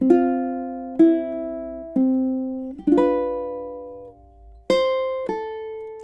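A ukulele plays measures 7 and 8 of a song as a slow run of about seven single plucked notes at a steady pace, each ringing briefly before the next, close and clean with no voices.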